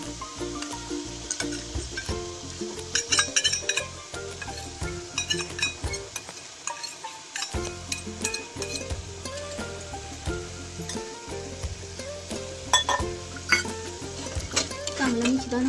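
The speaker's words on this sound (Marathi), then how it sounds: "चांगलं मिश्रण हलवून घ्यायचं." A spoon stirs a paneer tikka masala mixture with red chili chutney and puree in a pan, giving repeated clinks and scrapes over a steady sizzle while someone talks.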